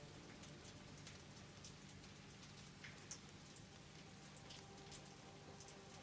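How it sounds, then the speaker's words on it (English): Steady rain in the video game Satisfactory, a dense, even hiss of drops pattering on surfaces throughout, with one faint sharp tick partway through and no talking. "it's raining."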